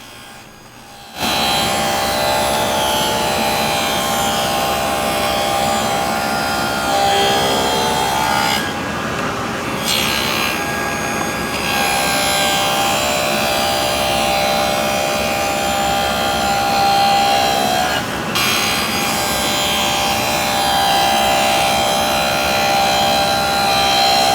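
A table saw cutting dados in plywood: a continuous loud whining buzz of the blade biting wood, with brief pitch shifts midway, running steadily throughout and no talk.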